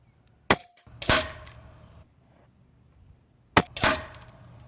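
A Diana Outlaw .25 caliber PCP air rifle charged to about 200 bar fires twice, each sharp crack followed by a short metallic ring, with a pause of roughly three seconds between shots.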